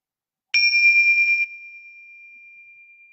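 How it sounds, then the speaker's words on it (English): Bells rung to open a guided imagery exercise give one bright ding that starts cleanly, holds steady for about a second, then fades into a long, soft ringing tail in otherwise silent surroundings. "I'm going to ring these bells"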